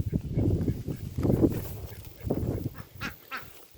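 Ducks and geese calling in a food forest: repeated honks and quacks, several overlapping bursts in irregular rhythm, close and fairly loud with no talking.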